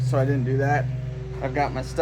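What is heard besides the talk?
No everyday noise stands out behind the speech.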